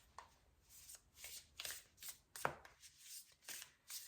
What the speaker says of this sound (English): let's give this a couple more shuffles and see what else wants to come from all of these decks